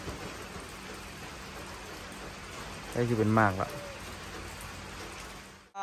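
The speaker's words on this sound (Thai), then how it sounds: "ฝนมันตกนะ" Steady rain falls outdoors as a constant hiss through the whole stretch, with a voice speaking briefly over it midway before the sound cuts off at the end.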